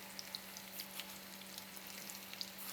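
Banana pieces sauté in a covered pan, giving a steady soft sizzle with faint scattered crackles and pops throughout, with no talking.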